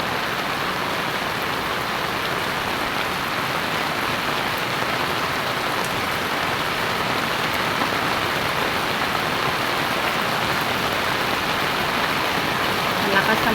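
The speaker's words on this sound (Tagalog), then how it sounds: "Palakas na yung ulan." Dense, heavy rain pouring steadily on surfaces outdoors during a storm and flood, a loud unbroken hiss that swells slightly stronger toward the end.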